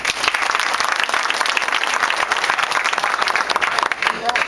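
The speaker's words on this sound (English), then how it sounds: "Give them a round of applause." Loud, sustained applause from a town hall crowd, dense clapping filling the whole stretch without letting up.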